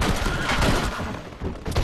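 Dense, rapid gunfire from a shootout in the Red Dead video game, overlapping loud shots and reports forming a continuous chaotic barrage.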